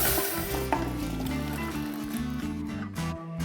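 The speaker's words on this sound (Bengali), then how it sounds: "এবার খুব ভালো করে ফুটিয়ে নেব" Milk tea boiling in a pot for fried tea, a steady bubbling and sizzling simmer heard close, with a faint hum of music underneath and no talking.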